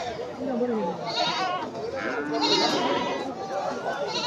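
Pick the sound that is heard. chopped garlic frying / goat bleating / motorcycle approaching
goat bleating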